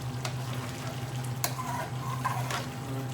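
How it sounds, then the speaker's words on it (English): Chicken tikka jalfrezi curry, thickened with oil risen to the top, bubbles and sizzles quietly in a pan on a gas stove, a soft continuous popping and simmer with occasional louder pops. "It's bubbling away."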